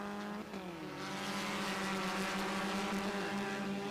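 A race car in the Indian National Car Racing Championship holds full throttle, a loud sustained engine drone with steady rising pitch and a brief dip near the start, close and without talk.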